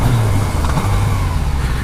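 Yamaha MT-09 (FZ-09, 2017) motorcycle engine on a test ride, a steady loud drone with a slight rise in pitch partway through, wind noise blended in, no talking.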